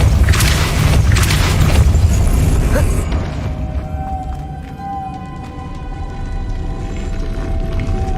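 The Depulso spell is cast in Hogwarts Legacy, a heavy magical boom and rumbling burst that fades after about three seconds into a lower ambient hum with faint mechanical sounds.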